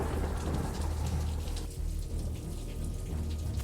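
A thunderstorm brings steady heavy rain with a low rumble of thunder rolling beneath it. The rain is loud and continuous, and no one speaks.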